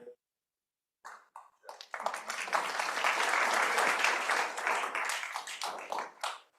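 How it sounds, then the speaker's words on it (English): An audience at a member presentation on a preliminary pool replacement project claps for Larry, beginning with a few scattered claps and swelling into steady, fairly close applause that tapers off at the end. "I appreciate you clapping for Larry"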